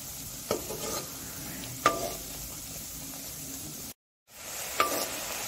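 Potato and pea chips frying in hot oil, a steady soft sizzle with a few sharp clinks of a utensil against the pan and a brief dropout near the end.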